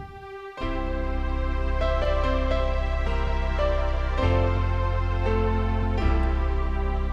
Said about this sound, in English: we'll just listen to piano and strings